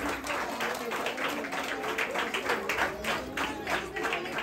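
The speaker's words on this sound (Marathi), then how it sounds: "जोरदार टाळ्या वाजवायचे" A crowd claps steadily at the second-anniversary function of a housing society's Sai Baba temple, with dense, continuous applause at a fairly close distance that holds even for several seconds.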